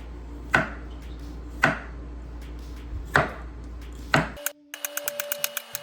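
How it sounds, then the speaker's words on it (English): Four sharp knife chops land on a board at a steady, unhurried pace, followed by a few faint high metallic pings. "And then chopping this up really thin."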